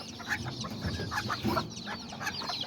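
Hen clucking softly beside newly hatched chicks, four black and one brown, with faint chirps and peeps scattered over a low background hum, close but quiet.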